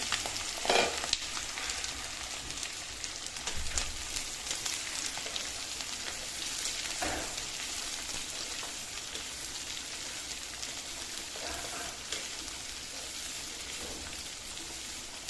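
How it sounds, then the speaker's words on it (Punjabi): Sliced onions and green chillies fry with cumin for a pointed gourd (parwal) sabzi. A soft, continuous sizzle crackles along, with a few faint stirring knocks. "ਹੁਣ ਆਪਾਂ ਪਾਵਾਂਗੇ ਪਿਆਜ਼ ਤੇ ਹਰੀ ਮਿਰਚ"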